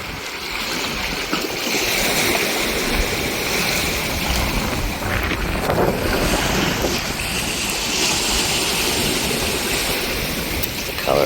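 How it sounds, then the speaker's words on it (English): Sea water washing in and out along the rocky shore at Malin Beg, a steady broad rush of surf with wind buffeting the microphone, continuous and fairly loud with no talk. "appreciate the water flowing in and out"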